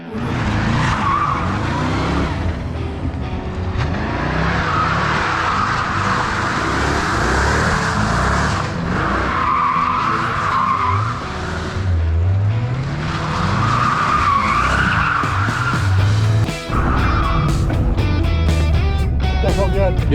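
A twin turbo Callaway Corvette drifts, its engine roaring and revving hard as tires squeal in long, wavering bursts, loud and close throughout, with voices talking over it.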